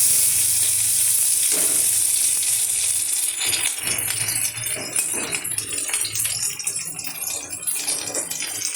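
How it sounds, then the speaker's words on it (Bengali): Sliced onions and a green chilli frying in oil in a pan, a loud continuous sizzle up close with occasional stirring scrapes and light metallic rattles. "আমি দিয়ে দিচ্ছি দেখুন 4-6টা পেঁয়াজ, খুব সামান্য। আর দিয়ে দিচ্ছি একটা কাঁচা লঙ্কা। এগুলো ভাজা হতে থাক।"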